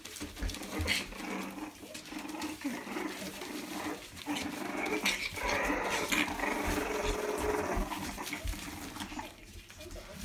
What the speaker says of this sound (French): C'est qui grogne là?